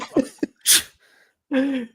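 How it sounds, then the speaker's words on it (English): A sharp, explosive sneeze after a couple of quick breaths, followed by a short vocal groan. "Oh God, I'm gonna sneeze"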